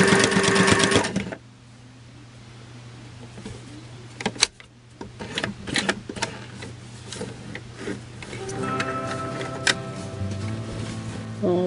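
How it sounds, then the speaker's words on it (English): A sewing machine stitches a tablecloth, finishing with a short back stitch; a steady mechanical whirring runs close and clear with brief pauses and restarts between bursts of stitching. "I'm going to finish sewing this and let it overlap a little, do a little back stitch"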